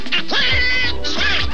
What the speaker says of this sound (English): taking out the morning with a bang is Donald, as in Duck, on Donald Duck Presents